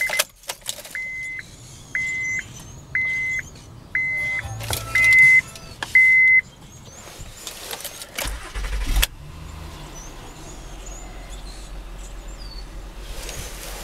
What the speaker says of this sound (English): you're going to want to start it up, let it warm up, and then run it through all of its gears